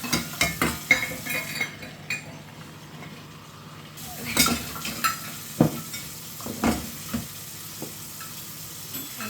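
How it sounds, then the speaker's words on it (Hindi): Water poured into semolina roasting in a pan for suji halwa hisses and sizzles, mixed with spoon clinks and scraping stirs against the pan; no one speaks. "अब इसमें 3 कप पानी जाएगा।"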